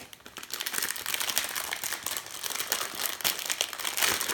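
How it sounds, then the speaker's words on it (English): Plastic mailer packaging from a happy-mail craft parcel crinkles and crackles continuously up close as it is opened, with dense bursts of rustling throughout. "I'm sorry for all the crinkling."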